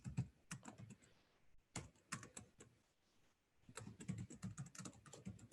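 Quick bursts of keystrokes on a computer keyboard while typing an address into a form, close and fairly quiet, with a short pause in the middle before the clatter resumes.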